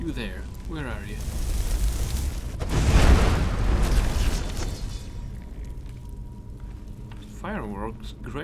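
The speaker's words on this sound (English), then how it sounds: "I want my fireball at him." Fireball spell explosions in the game Skyrim: a broad booming burst swells around the middle and fades slowly, with a voice speaking briefly before and after over game noise.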